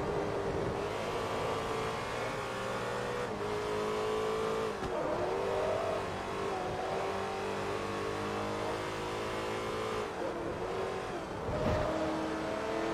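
Race car engine in Forza Motorsport 3, holding a loud continuous high-rev whine with a few shifts and dips, close and unbroken throughout.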